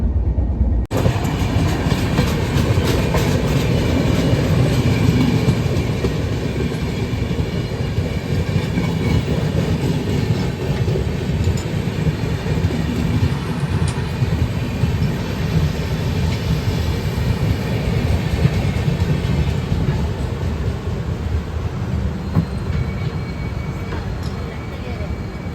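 The AP SF Express, a passenger train running from New Delhi to Rajahmundry, heard from inside as a loud, continuous rumble and rattle with faint clickety-clack from the rails over the whole stretch.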